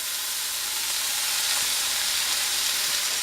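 A pork chop sizzles in a stainless steel skillet beside apples, onions and garlic, giving a loud, steady frying hiss that runs the whole time without talk.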